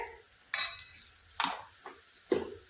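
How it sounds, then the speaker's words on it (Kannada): Ginger garlic paste dropped into a hot pan and stirred with a metal spoon, giving several separate scraping, clattering strokes with a light sizzle beneath, close and alone. "ಶುಂಠಿ ಬೆಳ್ಳುಳ್ಳಿ ಪೇಸ್ಟ್ ಹಾಕಿ ಚಲೋತ್ನಾಗ ಮಿಕ್ಸ್ ಮಾಡ್ಕೊಂಡು"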